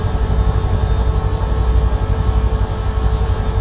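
Steady, droning engine and rotor hum of a Sea King helicopter in Microsoft Flight Simulator 2024, continuous and even with no talk.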